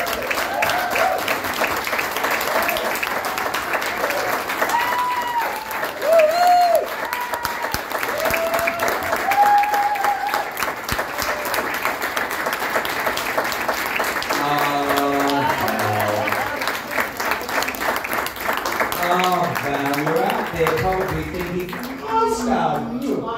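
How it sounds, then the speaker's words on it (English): Rousing audience applause at a cast lunch for a veteran television actress, a dense, continuous clatter of many hands with crowd voices and cheers mixed in, holding steady and loud throughout. "a rousing round of applause, please, for the one and only Val Lehman"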